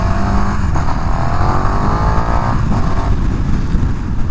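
A KTM Super Duke 1290 R EVO motorcycle's engine roars steadily while being ridden, loud and close with a continuous drone and some wind noise and no talking.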